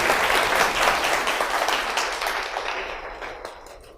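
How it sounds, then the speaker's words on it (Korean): A Korean lecture-hall audience applauds in a dense, steady wave of clapping that holds loud at first and gradually thins and fades over a few seconds, with no voices over it. "박수 다시 한번 쳐주세요"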